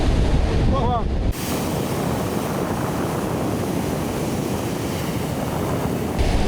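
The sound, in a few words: ocean waves crashing against cliffs in Peru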